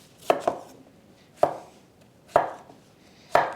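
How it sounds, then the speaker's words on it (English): A knife roughly chopping a peeled potato on a cutting board, with five sharp, close thuds at uneven intervals and quiet between them. "I need to just roughly chop this potato."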